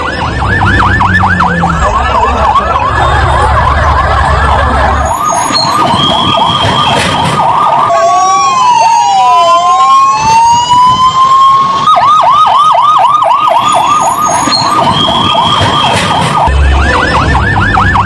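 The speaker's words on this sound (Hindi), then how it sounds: "देखिए फायर ब्रिगेड की गाड़ियां मौके पर पहुंचने लगी" Loud wailing fire engine sirens from several vehicles arriving at a plane crash fire, overlapping yelps and long sweeping tones, close by and continuous with engine rumble underneath.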